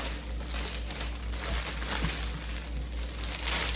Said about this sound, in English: Let me tear a little piece. If I tear it, all I got to do is rip it across